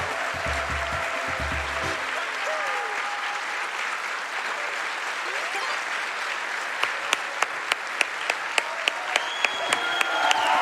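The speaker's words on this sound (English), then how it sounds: "Can we give it another round of applause for the runners?" Audience applause for the runners at the end of a Super Mario Sunshine Lockout Bingo race at the AGDQ speedrun marathon: a wash of crowd clapping with some low voices early on, then a run of sharp, evenly spaced clicks near the end.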